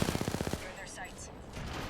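Rapid burst of automatic gunfire striking the player in the battle royale game Apex Legends, about eight sharp evenly spaced shots in quick rhythm, loud and close, followed by softer game effects and faint chatter.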